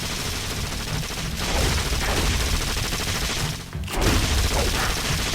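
Rocket Raccoon turrets in the Marvel Heroes game fire rapid, sustained gunfire with heavy booming bursts. The volley runs almost continuously, with one brief dip before resuming loudly.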